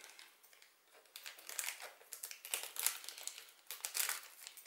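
Small plastic bags of colored six-sided board game dice for The Castles of Burgundy are opened by hand, giving soft, close crinkling and rustling in uneven bursts.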